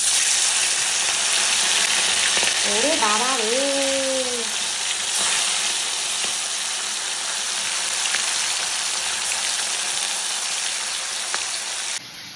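Dried fish drops into a smoking-hot wok and sizzles with a steady, loud hiss that goes on throughout, while a voice briefly exclaims partway through.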